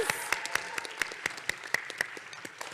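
A small audience at an honor roll ceremony claps in a sparse, fairly steady rhythm, each sharp clap standing out clearly over a thin room background for the whole stretch.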